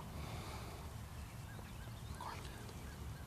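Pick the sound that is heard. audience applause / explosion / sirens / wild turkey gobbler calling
wild turkey gobbler calling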